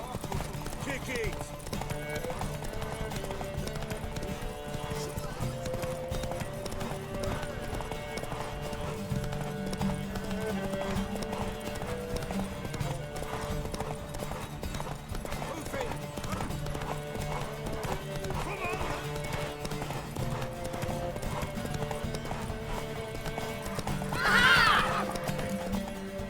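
A horse in the video game The Witcher 3 gallops with steady clip-clop hoofbeats throughout, with a brief neigh near the end, while people talk over it.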